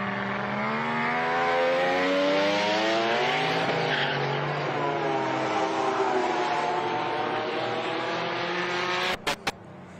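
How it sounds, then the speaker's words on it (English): Race cars accelerate hard during roll racing at Sydney Motorsport Park, one including a screaming 20B rotary, their rising engine howls echoing through the circuit, loud and steady, with a few sharp clicks near the end. "You get to see all that horsepower and how fast are these cars accelerating."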